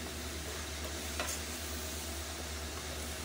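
Seasoning for pancit bihon and canton is stirred in a frying pan under a constant, fairly loud sizzle and hiss, with faint utensil scrapes and one brief clink. No one talks.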